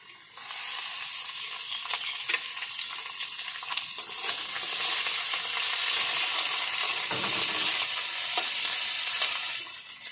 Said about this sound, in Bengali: গাজর, আলু, পেঁয়াজ, টমেটো সবগুলোকে ভালোভাবে এখন লাল লাল করে ভেজে